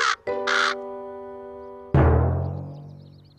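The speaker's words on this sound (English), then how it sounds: "It's a crow." An animated cartoon crow caws loudly in a morning scene: a couple of sharp, close caws at the start, then a sustained ringing tone that drops into a longer descending, decaying call.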